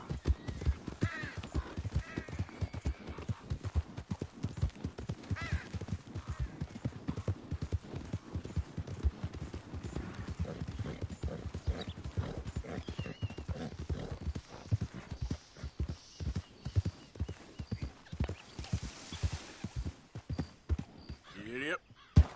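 Horse hooves clip-clop at a steady trot in the video game Red Dead Redemption 2, a continuous rhythmic stream of hoofbeats through the whole stretch with a faint whinny later, under quiet game ambience.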